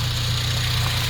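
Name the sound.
2007 Honda Civic Si engine idling quietly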